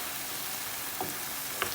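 Hamburger meat sizzles in a pan on medium heat, a steady soft frying hiss with a couple of faint pops, fairly quiet and with no voices.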